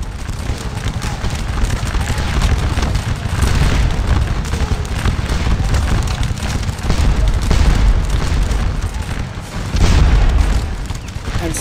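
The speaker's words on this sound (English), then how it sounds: "under the flanking fire, artillery fire, and fire from the farmhouse" Artillery booms and musket volleys from the Waterloo battle game Scourge of War, around a farmhouse, form a dense, continuous roar of overlapping distant gunfire with heavier thumps near the end.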